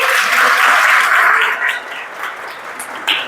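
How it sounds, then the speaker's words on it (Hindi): An audience at a school welcome ceremony breaks into a short round of applause, loudest at first and then quickly thinning into scattered claps within a couple of seconds. "चला एक बार जोरदार तालियां सबके लिए"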